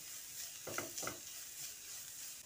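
Grated carrot tossed in a pan with green chili is stirred over a soft, faint background sizzle, with two quick scraping strokes of a spatula near the start, then only the quiet frying.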